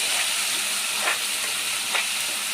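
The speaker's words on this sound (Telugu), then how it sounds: "ఇది కూడా వేసుకున్న తర్వాత బాగా ఫ్రై చేసుకోవాలి." Chopped tomatoes frying for semiya tomato upma: a loud, continuous close sizzle with a couple of soft spatula strokes stirring through the pan, no voices.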